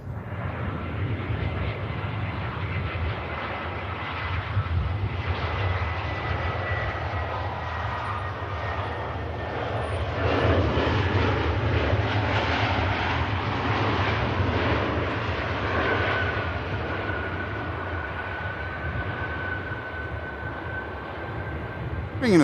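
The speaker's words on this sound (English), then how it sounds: "Bringing a 319 in on this occasion" A 25-year-old Airbus A319 on a shuttle flight comes in to land at Manchester Airport, its engines a steady, fairly distant roar that swells slightly midway and holds for over twenty seconds.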